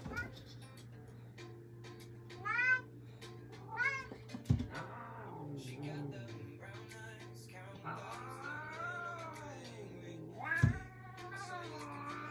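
Cat meowing during a home workout, several drawn-out, wavering meows and cries scattered over a low steady hum, fairly close, with a quiet voice now and then.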